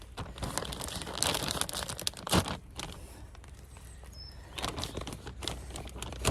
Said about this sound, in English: So gonna fill this up now with this 50-litre bag, 56 litres in here actually